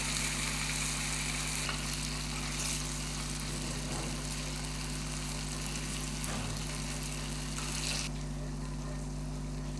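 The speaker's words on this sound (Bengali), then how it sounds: "পিসগুলো কেটে ওখান থেকে নিয়ে আমি তেলে ভেজে নেব" Pieces of palm-fruit sweet fry in oil with a steady, soft sizzle and bubbling that runs throughout, quiet and close over a low constant hum.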